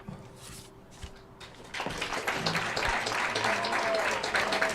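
Crowd at a ladies' soccer senior night breaking into applause, starting quiet then swelling after a couple of seconds into a sustained wash of clapping and cheering from the stands.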